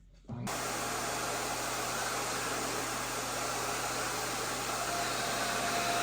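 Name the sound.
dog grooming vacuum with de-shedding tool running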